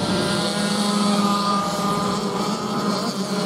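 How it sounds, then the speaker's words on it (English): Clubman Lights race cars drive around a racing circuit toward a hairpin during a heat race, a steady blended engine drone held at a distance for a few seconds with no clear talk. "Clubman Lights are out on circuit and they are all making their way down into the hairpin just in front of me."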